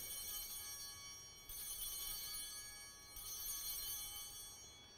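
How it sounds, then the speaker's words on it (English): Bright altar bells ring in three shimmering bursts about a second and a half apart during Mass as the chalice is lifted, each chime lingering and fading, with no talking. "It's important when you're ringing the bells, just like Carter does, don't be shy."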